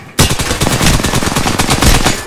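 Sustained automatic gunfire from an Apex Legends match, a loud, dense rattle of rapid shots that begins abruptly and keeps going without a pause, with no talking over it.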